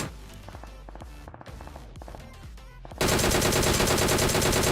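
Rapid gunfire in the mobile battle-royale game PUBG Mobile on the Erangel map: bursts of automatic shots with footsteps at first, then a loud, dense, sustained volley of continuous fire.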